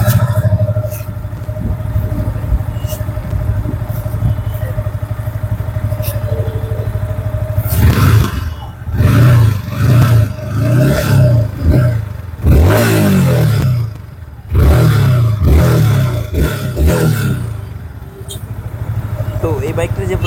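A Yamaha R15 V4 motorcycle whose engine speed does not match its pickup idles steadily, then blips through a series of sharp, close revs in quick succession before settling back to idle.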